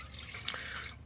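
Water runs into a measuring cup while filling two cups, a soft continuous trickling splash with a small drip-like accent, faint and without talk.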